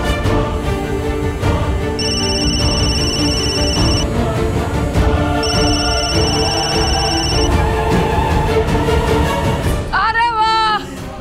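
A telephone rings in two steady electronic bursts in a Hindi television drama, set against constant loud background music.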